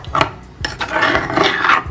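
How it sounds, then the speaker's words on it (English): A spoon stirs a cornmeal and flour porridge mixture in a bowl, making close, gritty scraping strokes in a quick uneven rhythm, fairly loud with no speech. "And just mix it so it's nice and smooth"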